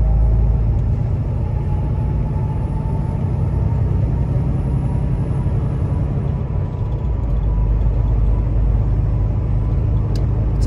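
PACCAR truck with a 510 hp, 1850 torque engine and automated Endurant 12-speed transmission, a steady loud low rumble of the engine and road noise from inside the cab while driving, with no talk.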